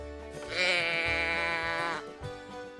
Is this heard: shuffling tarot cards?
no